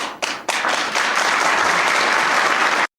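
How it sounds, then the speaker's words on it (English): Sudden burst of applause from an audience during a Bill Clinton apology speech, starting abruptly as a broad, steady roar of many hands that holds at full loudness before cutting off sharply. "the clapping came out of nowhere. It's pretty abrupt."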